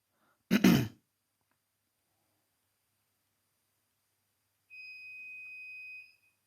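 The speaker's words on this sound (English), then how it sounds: "Is that you setting the alarm off in the front of the pub?" An alarm at the front of a pub sounds as a single steady electronic tone lasting over a second, faint and distant, after an earlier short cough-like burst; no talk.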